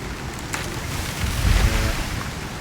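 Storm battering a player's weak base in the survival game Icarus, heard as a steady roar of wind and rumbling buffeting that swells louder midway, with scattered creaks and knocks, no talk.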